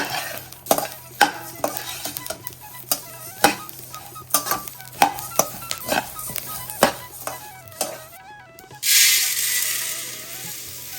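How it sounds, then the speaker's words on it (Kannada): Spices fry in a pan for sambar while a spoon stirs them steadily, producing repeated close scraping and clinking over a constant sizzle, with a louder hiss swelling near the end. "ಈ ರೀತಿ ಕಲರ್ ಚೇಂಜ್ ಆಗೋ ತನಕ ಚೆನ್ನಾಗಿ ಫ್ರೈ ಮಾಡ್ಕೊಂಡಿದ್ದೀನಿ"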